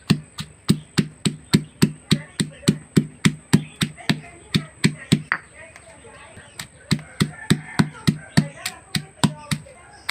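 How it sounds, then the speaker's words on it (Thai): Red and green chilies pounded together in a mortar for a northern Thai frog stir-fry, a steady run of sharp, evenly spaced thuds close by, briefly pausing midway before the rhythmic pounding resumes. "ใส่พริกลงไปครับ ทั้งแดง พริกเขียวพริกแดงนะครับ รวมกัน โขกรวมกันครับ"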